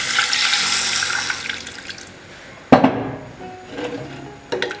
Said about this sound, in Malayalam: ഇതിലേക്ക് നമുക്ക് 2 കപ്പ് തിളച്ച വെള്ളം ഒഴിച്ചു കൊടുക്കാം.